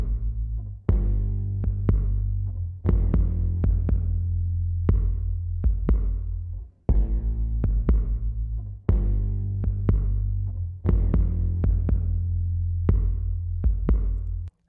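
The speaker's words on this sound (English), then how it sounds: "my sub bass is EQ'd so that it takes out some of that low end that my kick has" A kick drum and an EQ'd sub bass play together in a mix, with the bass trimmed to leave room for the kick. Deep, throbbing low pulses repeat in a steady groove, loud and continuous with no talking.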